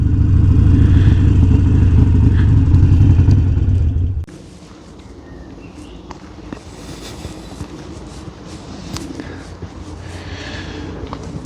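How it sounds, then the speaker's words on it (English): A Harley-Davidson Sportster motorcycle on a quiet country lane, its loud engine rumble dominating the first four seconds before dropping to a softer, steady running drone with wind noise. "The Harley-Davidson Sportster."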